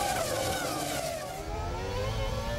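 Formula 1 cars from the 2000 Monaco Grand Prix pulling away at the race restart, a loud, continuous high-pitched engine whine rising in pitch as the cars accelerate close by.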